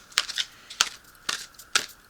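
Large Doreen Virtue angel cards are shuffled in short, crisp bursts of about four quick riffles, each followed by a brief pause. The sound is close and fairly quiet, with no talk over it.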